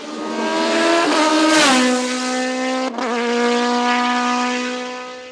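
A single-seater race car at a hill climb course in La Pommeraye screams past at high revs, the engine note rising with an upshift, close and loud throughout, with no voices.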